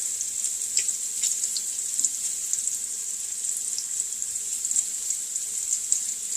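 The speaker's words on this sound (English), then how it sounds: "So now we're just going to add some broth." Broth pours steadily into a pot on the stove with a continuous watery splashing hiss, close and fairly quiet, no voices.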